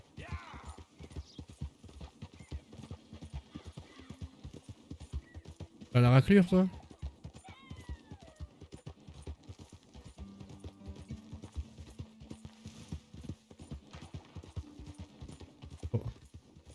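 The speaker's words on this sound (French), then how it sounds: "Ah si, mon autre cheval." Horse hooves clip-clop steadily in Red Dead Redemption 2, a continuous rhythmic plodding under someone talking, with a brief loud burst of another sound partway through.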